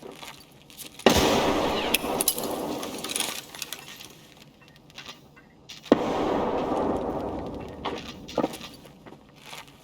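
Two sudden, loud explosions in the game Escape From Tarkov about five seconds apart, each a sharp blast followed by a long rumbling, crackling fade.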